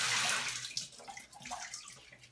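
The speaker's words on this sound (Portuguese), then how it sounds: "Eu tô enxaguando ele aqui, ó. Embaixo do chuveiro." A shower spray rinses a cat during its bath, a close, rushing splash of running water that is loudest at the start and then falls off and wavers as the stream moves over the fur.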